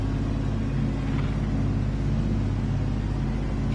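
Race car engine in the GT Sport racing game, heard as a loud, steady low droning rumble with a constant tonal hum throughout, with no talk over it.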